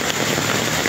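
Steady heavy rain pours down during typhoon flooding in Naga City, a dense, continuous hiss close by with no voices over it.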